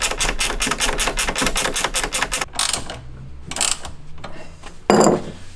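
A ratchet wrench cranks in a fast, even run of sharp metallic clicks while tightening 17mm clamps on the bed-cover rail of a 2016 GMC Sierra 2500HD Denali, then slows to a few separate clicks and knocks, close and loud.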